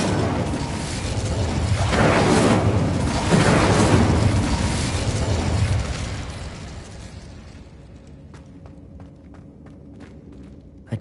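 An Incendio fire spell is cast in Hogwarts Legacy, releasing a loud, roaring whoosh of flame that swells for several seconds and then fades into quieter ambience with a few sharp clicks.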